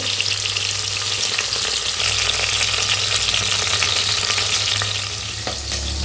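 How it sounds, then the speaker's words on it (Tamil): Curry leaves frying in a pan of oil with onions for a country chicken curry, giving a loud, close, continuous sizzle with stirring scrapes throughout and no voices. "தேவையான அளவு கருவேப்பிலை ஆட் பண்ணிக்கலாம்"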